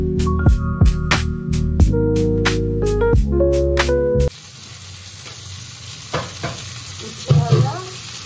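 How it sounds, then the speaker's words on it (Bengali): Potatoes with egg frying in a pan, a loud, close sizzle with stirring and clattering, preceded by a few seconds of bright ringing tones before the frying takes over. "ডিমের আলু ভাজা হচ্ছে"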